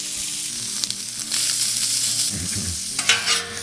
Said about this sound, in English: I'm gonna start by warming up my pulled pork. We'll place that directly onto that beef tallow.